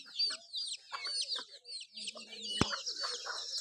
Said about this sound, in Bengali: এই যে আমাদের হাঁস মুরগিগুলো